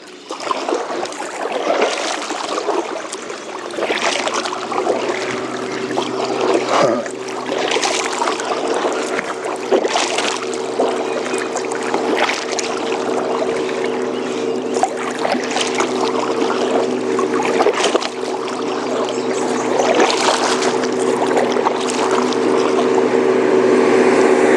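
A motorboat runs on the Kentucky River, its steady engine hum riding under constant splashing and rushing water, loud and close throughout with the drone slowly building.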